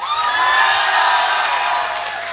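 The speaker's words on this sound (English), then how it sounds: "Can you just give a loudest round of applause for you guys?" A college fest audience at Kritanj, Narula Institute of Technology, breaks into a loud, sustained wash of applause and cheering that holds steady for a couple of seconds, with a faint low hum underneath.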